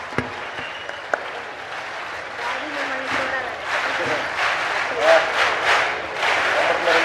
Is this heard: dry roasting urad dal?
no